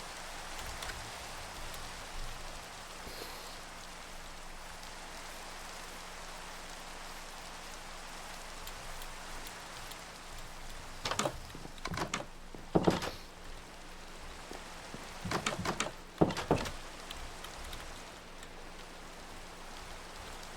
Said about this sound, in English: Now we just have to wait for the rain to go away.